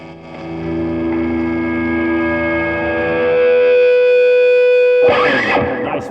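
A Gibson electric guitar on its bridge pickup through a 40-watt amplifier rings out in long sustained distorted notes that bloom into feedback, then a sharp burst of strummed chords ends the passage.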